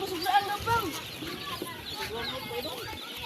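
Domestic ducks on a farm give repeated clucking, quacking calls close by, with a busy, noisy background throughout.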